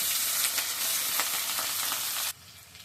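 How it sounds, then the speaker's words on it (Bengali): Potatoes and carrots frying together in hot oil in a wok, giving a loud, dense, continuous sizzle close to the listener. The sizzle drops off suddenly near the end. "এবার আলুগুলা ভেজে নিব"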